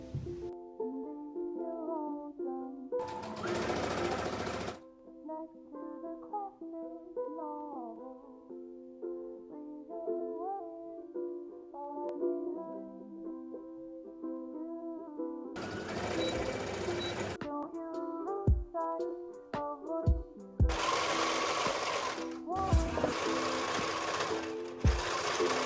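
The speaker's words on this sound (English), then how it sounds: "then I'm going to stitch them together and serge it" A serger or sewing machine stitches fabric pieces together for a ruched top in short, rapid mechanical bursts separated by pauses, with music playing quietly underneath throughout.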